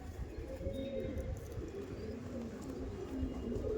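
Andhra pigeons coo continuously at close range in a bird sale setting, a low warbling murmur holding steady across the whole stretch.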